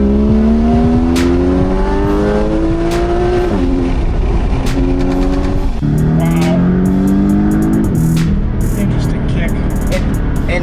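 A Porsche 981 Cayman GTS engine revs hard and accelerates, its pitch climbing through repeated rising sweeps with a brief dip and a fresh climb midway, loud and close throughout, with no one talking over it.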